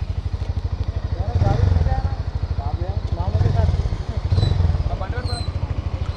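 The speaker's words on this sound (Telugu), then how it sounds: "ఫస్ట్ ఎగ్జాస్ట్ సౌండ్ విందాం." A Hero Mavrick 440 motorcycle idles with a steady, rapid thumping exhaust pulse close by, while voices speak over it at intervals.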